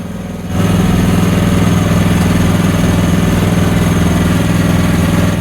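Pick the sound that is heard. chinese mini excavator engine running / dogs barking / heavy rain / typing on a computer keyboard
chinese mini excavator engine running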